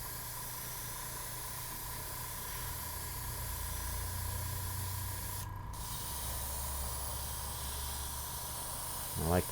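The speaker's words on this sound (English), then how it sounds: "we'll just do a little test spray here" An airbrush sprays gold paint onto a plastic scale model, a steady close hiss running continuously with a brief gap midway.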